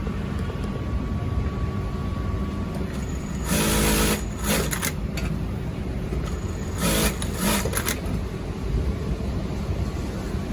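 Jack A5 industrial sewing machine stitching fabric, a steady whirring motor hum with two short bursts of fast stitching, close and clear without talk.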